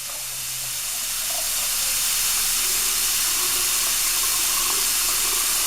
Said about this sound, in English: Now go and flush the hot water and see.